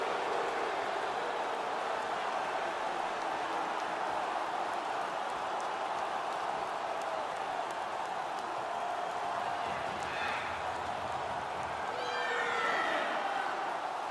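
Arena crowd roaring after a goal in an NHL 19 Minnesota Wild versus Dallas Stars game, a steady, dense wash of cheering that swells slightly toward the end.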